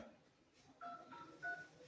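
A few short telephone keypad tones beep in quick succession, faint, over a quiet background with some indistinct voices.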